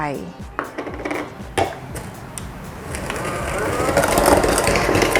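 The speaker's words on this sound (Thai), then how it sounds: "แล้วเราก็ตีให้ฟูขาวเลยค่ะ" Butter and sugar beaten together in a bowl for sable cookie dough, with knocks and clatter against the bowl at first, then a steady, loud whirring scrape that grows toward the end.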